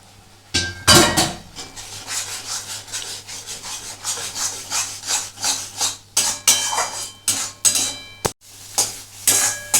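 A spatula scrapes and rubs in a rhythmic series of strokes as duck-egg korma masala with fried gram flour is stirred and sautéed in a pan, the sound loud and close with short pauses between.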